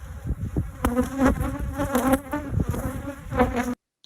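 Loud, dense buzzing of many agitated honey bees close by, a restless droning hum that rises and falls before cutting off abruptly.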